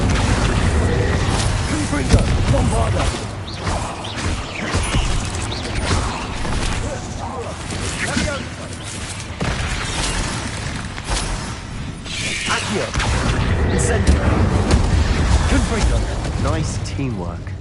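Hogwarts Legacy spell combat against a troll, with a dense, continuous barrage of magical blasts, booms and crashing impacts filling the scene, and a voice shouting spell names over the din.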